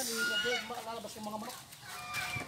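Chickens on a farm cluck and chatter close by, with a rooster-like crowing call over a noisy outdoor background, several overlapping birds sounding in quick succession.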